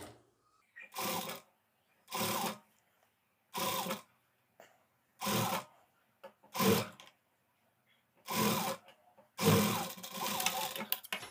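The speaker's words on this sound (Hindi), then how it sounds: "मैं बाहर की तरफ से सिलाई लगा रहा हूँ" A sewing machine stitches lace onto a blouse in seven separate bursts, each run lasting under a second with short quiet gaps between. The last run is longer. The bursts are close and moderately loud, and no one talks.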